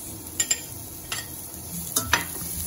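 Red chilies stirred in a pan with oil, a few short scraping clicks of a utensil over a faint steady sizzle, close and quiet with no talking.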